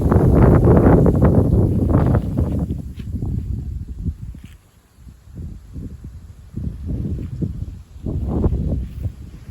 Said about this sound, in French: Voilà, une grosse rafale là.